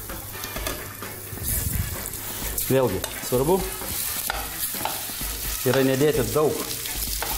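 Chicken pieces frying in oil in a pan, a steady sizzle with stirring and clattering running throughout, while a person talks over it.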